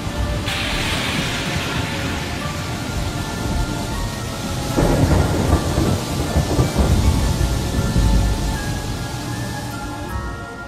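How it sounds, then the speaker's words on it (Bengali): Steady heavy rain pours throughout while thunder rumbles low, swelling louder in the middle before easing back into constant downpour. "ঝড় থেমে গিয়ে বৃষ্টি নামল।"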